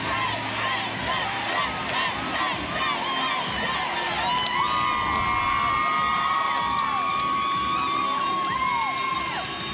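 A gymnastics meet crowd at an NCAA college meet cheers, whoops and shouts loudly in a continuous roar, with high children's voices and scattered screams filling the arena throughout.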